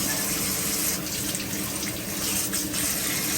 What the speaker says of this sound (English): It's a little dirty, so let's wash it off a little bit.